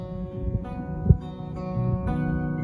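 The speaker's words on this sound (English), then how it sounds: "You can play the guitar with your fingers by finger picking." Acoustic guitar picked with the fingers, individual plucked strings ringing with sustained harmonic tones and a few distinct note onsets, moderately loud and close.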